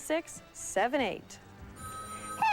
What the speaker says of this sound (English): This is the first phone call we've gotten.